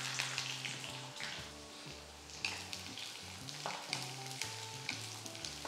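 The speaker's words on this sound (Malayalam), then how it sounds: "ചൂടായ എണ്ണയിലേക്ക് ഒരു 1/4 കപ്പ് ചുവന്നുള്ളിയും 1 പച്ചമുളകും കൂടെ ചേർക്കാം." Quartered shallots and a green chili sizzle as they go into hot coconut oil for okra sambar, a steady crackling fry with a few sharper bursts, heard close and loud over background music.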